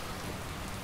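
Steady rain hissing down on a snowy mountaintop in Skyrim, a dense, even wash with no breaks and no voices over it.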